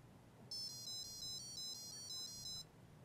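Another short ringtone melody from a small Adafruit noise-making gadget, bright electronic beeps pulsing in an even rhythm for about two seconds, quiet with nothing else heard.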